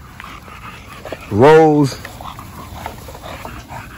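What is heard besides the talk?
puppies whimpering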